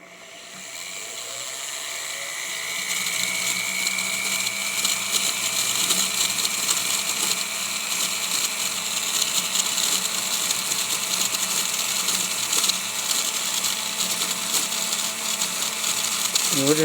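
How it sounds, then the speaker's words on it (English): Rotary tool fitted with a silicone polishing wheel smoothing sharp metal edges on a jewelry bail, a steady high whine running continuously after spinning up, close and loud. "we're just using our silicone wheel. To kind of get them rough edges out of there."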